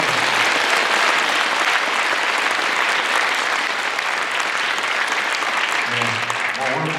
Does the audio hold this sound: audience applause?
yes